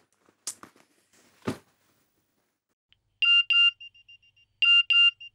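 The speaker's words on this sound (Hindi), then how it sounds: "तेरा मैसेज आया देख।" A phone plays a message notification tone, a bright electronic chime in two double-beep bursts separated by a short pause. A few soft handling noises come before it in an otherwise quiet room.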